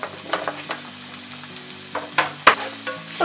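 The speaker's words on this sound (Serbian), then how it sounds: "dodat ćemo sitno seckanu slaninu" Finely chopped bacon frying with onion in a pan, a close, steady sizzle with crackling pops and a few stirring scrapes, with music playing softly underneath.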